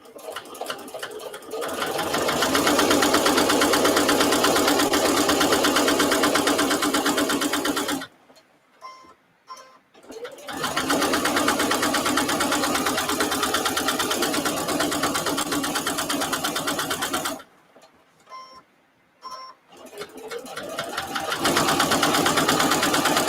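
A sewing machine stitches a placemat with mitered corners, humming loud and close in two long runs of steady stitching, each cut off by a short quiet pause before starting again.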